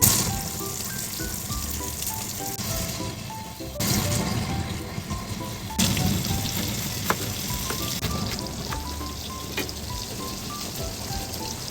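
Pork frying in a pan, a loud steady sizzle and crackle with scattered pops and a few stirring clatters, no talking.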